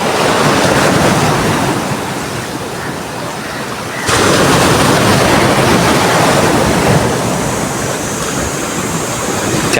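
Ocean waves break continuously on a Konkan shore, a loud full roar of surf with a fresh surge midway, wind buffeting the microphone and no voices.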